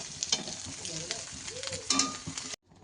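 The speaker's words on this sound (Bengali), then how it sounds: "ডিমটা ভাজা ভাজা হয়ে গিয়েছে, এবার এটা কড়াই থেকে নামিয়ে নেব।" An egg fries in oil in a wok with a steady sizzle and scraping spatula strokes close by, then the sound cuts off abruptly near the end.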